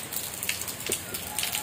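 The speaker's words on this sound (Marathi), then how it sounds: "कोकणात इतको भयंकर पाऊस पडताय ना" Heavy monsoon rain falls over flooded rice paddies in Konkan, a continuous broadband wash with brief splashy bursts, fairly close, with no clear speech.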